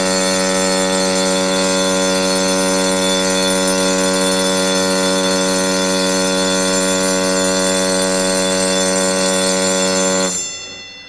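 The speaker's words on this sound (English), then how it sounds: "The general alarm for fire and emergency sounds like this." A ship's general alarm for fire and emergency blares as one continuous, loud, harsh buzzing tone that holds steady for about ten seconds, then cuts off abruptly.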